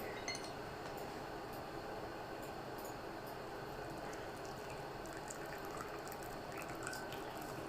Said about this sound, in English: This is a huge pot, the one I'm pouring out of right now.